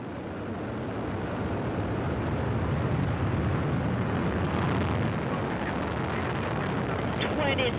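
A Soyuz rocket lifting off toward the International Space Station, its four strap-on boosters and core engine producing a broad, steady, loud roar that fills the whole clip, with no voices heard.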